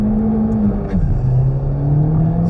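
A car on Goodyear Eagle F1 Supersport tyres pulls hard away from a road junction, its engine droning loud and steady with a pitch shift as it accelerates and the tyres spin, no talk over it.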